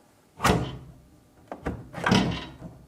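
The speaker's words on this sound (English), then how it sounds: "put your hand at the base of the door and lift up" A GE microwave door is lifted off its hinges, giving a close, sharp clunk followed by a few quick rattling knocks and a final clattering thump, with no talking.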